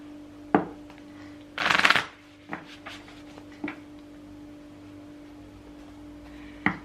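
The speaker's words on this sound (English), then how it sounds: "Just wanted to pull a couple of cards here." Tarot cards are shuffled in one quick, close riffling burst, with a few isolated soft taps as cards are pulled and set down in a quiet room.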